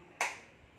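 A single sharp hand clap during a physiotherapy exercise for a paralysis patient at an old-age home, one crisp close strike that quickly fades, otherwise quiet.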